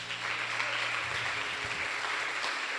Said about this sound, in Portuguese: aplaudindo o Senhor bem forte